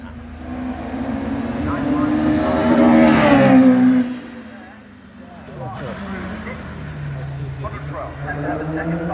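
A 1994 Mara Formula 3 race car accelerates up the Shelsley Walsh hillclimb, its engine note climbing to a loud peak, dropping, then rising again, with a commentator talking over it.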